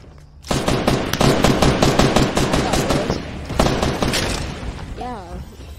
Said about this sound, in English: why are you shooting a shotgun?